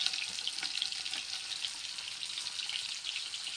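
Large fish frying in plenty of oil, a steady bright sizzle with small crackles and pops running throughout, close and fairly quiet, with no voices.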